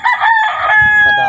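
A rooster crows loudly and close by at a backyard chicken coop, a single drawn-out call lasting just over a second.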